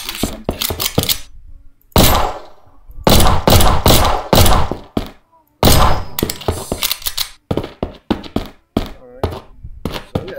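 Sharp, loud gunshots from a shooter video game, fired in short irregular bursts and single cracks separated by brief silent gaps, all close and punchy.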